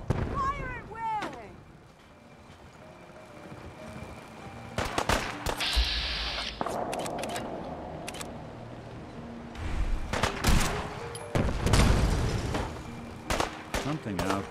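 Scattered heavy gunshots and booming blasts in a Fallout 4 battle, loud bursts separated by quieter stretches, with voices shouting over parts of it.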